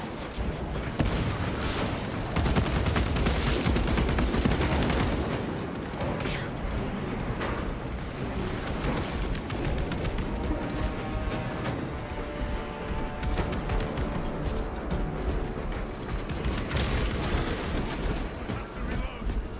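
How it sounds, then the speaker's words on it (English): Frag grenade blast amid sustained gunfire and combat clatter in Space Marine 2, a dense, loud wall of explosions, shots and mechanical crashes running throughout, with faint game voices mixed in. "Deploying frag grenade."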